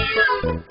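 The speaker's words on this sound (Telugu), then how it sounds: "ఆ వేడి పాలు తాగినందువల్ల నోరు కాలి ఆ పిల్లి బాధతో అరిచింది." A cat cries out in pain after burning its mouth on hot milk, giving two or three short, tonal wailing meows in quick succession, close and clear with no talk over them.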